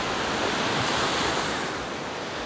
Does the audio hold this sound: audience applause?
no